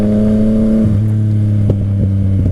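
A Yamaha FZ-09 three-cylinder motorcycle engine revs loudly and close, holding a steady pitch before dropping to a lower idle, with a few sharp blips near the end.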